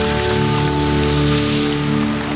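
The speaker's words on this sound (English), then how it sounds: "it's pouring of rain" Heavy rain pours steadily outdoors under trees on a remote island, a dense, loud, continuous hiss of drops hitting the surface with no pauses and no voices.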